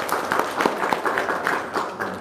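Audience members clap together at a gathering, producing a steady patter of handclaps for a couple of seconds, close and moderately loud.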